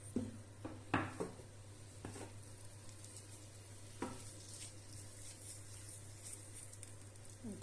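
Peppers sautéing in a pan, a soft, low sizzle with a few sharp clinks and scrapes early on, then a quiet steady fry.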